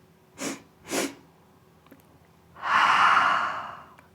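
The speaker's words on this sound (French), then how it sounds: "Par le nez, tu inspires 2 fois." Two short, distinct inhalations through the nose during a breathing exercise, close and clear, followed after a pause by a long, audible exhale through the mouth.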